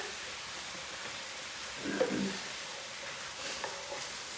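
Spoon stirring cooked noodles with a splash of vegetable broth in a hot pan, a brief soft scraping and light sizzle near the middle, with faint steady frying noise throughout.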